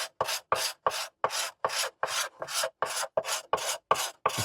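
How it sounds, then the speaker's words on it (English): A card scraper shapes a tulip poplar neck for a cigar box stick dulcimer, a dozen evenly spaced rasping strokes in a steady rhythm, close and crisp with no talk. "The sandbit card scraper is doing most of the work on this wood."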